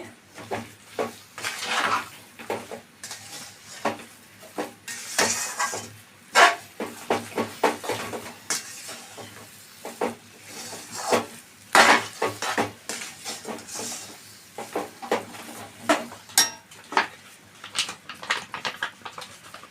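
A spoon stirs and mixes food in a metal pot with repeated clinks and scrapes in an uneven rhythm, close and fairly loud, with short pauses between bursts of mixing.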